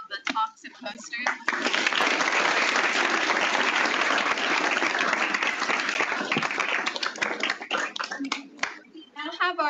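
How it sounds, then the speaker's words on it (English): A symposium audience breaks into loud, dense applause that holds steady for several seconds before fading into scattered claps, with a speaker's voice audible briefly at the start and end. "Can we just do one big round of applause for all of the talks and posters?"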